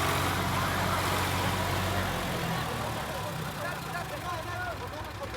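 Tractor engine straining while pulling in a tractor towing contest, a loud, steady low rumble held close by throughout, with crowd voices mixed in.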